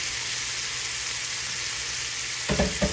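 Shrimp sizzle and fry in a crowded skillet, a steady close crackling hiss throughout that swells with a couple of louder bursts near the end as the pieces are moved or stirred.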